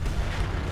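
Explosion in the video game Battlefront, a brief deep rumbling boom that fills the whole moment with no talk over it.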